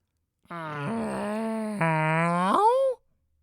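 A voice imitates a dog yawn with a drawn-out, groaning whine that rises and bends in pitch, about two and a half seconds long, loud and close with no other sound.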